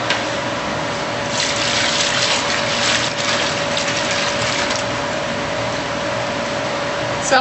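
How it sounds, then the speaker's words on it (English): Evaporated milk pours steadily into a pot for pralines in a kitchen, a continuous liquid gush lasting several seconds, loudest in the middle and settling toward the end, over a faint background hum. "And now we add milk."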